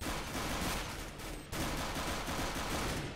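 Dense, continuous gunfire in Counter-Strike: Global Offensive on the Nuke map, rapid overlapping shots filling the whole stretch at fairly low level, with a brief dip midway and no talk.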